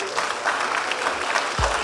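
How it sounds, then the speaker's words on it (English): Audience applause at a debate championship grand finale and awards ceremony, a steady, dense wash of clapping that continues throughout with a faint voice underneath. "Please keep clapping, keep clapping"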